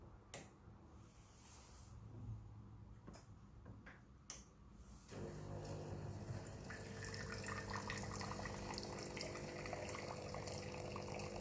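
A Breville Barista Pro espresso machine dispensing hot water into shot glasses: a few sharp clicks and ticks, then a steady hissing, trickling stream with a low pump hum, quiet and close.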